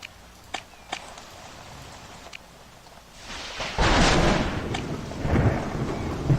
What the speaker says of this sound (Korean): 우와 정말 오지고 지리게 번개가 떨어집니다